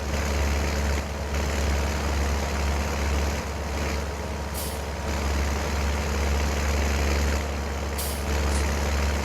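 A John Deere combine harvester fitted with a Cressoni header runs in Farming Simulator 19, its engine a steady, loud, low drone with an even hum layered on top that holds without a break.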